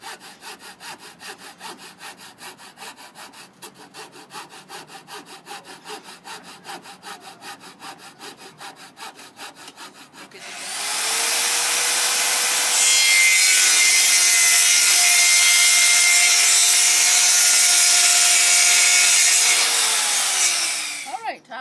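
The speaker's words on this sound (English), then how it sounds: "this is going to be where we're going to cut our dowels in half" A hand saw cuts wooden dowels in half with fast, rhythmic back-and-forth rasping strokes, close and loud, before a power tool takes over with a steady roaring whine for the second half.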